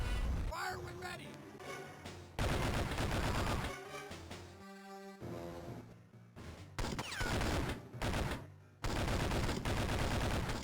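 Gunfire from the Game Boy Advance game 007: Nightfire comes in dense, loud bursts alongside other game sounds, broken by short quieter gaps.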